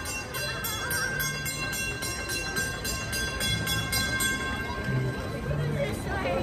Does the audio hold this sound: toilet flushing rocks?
no